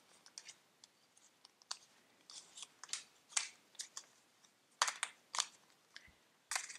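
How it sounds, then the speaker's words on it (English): Tarot cards being shuffled by hand, producing a run of crisp, irregular papery clicks and riffles close to the mic, bunched into quick bursts with brief pauses between them. "Just shuffling a bit more if any card wants to come out."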